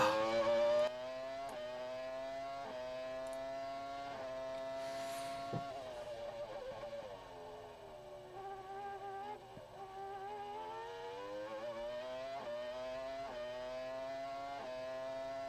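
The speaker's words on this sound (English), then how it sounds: "Listen to that engine." An engine revs steadily with rising and falling pitch sweeps over about fifteen seconds, fairly faint and even, with no talk over it.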